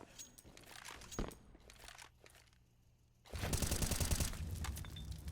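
Gunfire in Counter-Strike: Global Offensive during a competitive esports match, with a dense burst of rapid shots and crunchy impacts taking over loudly in the second half after quieter scattered sounds.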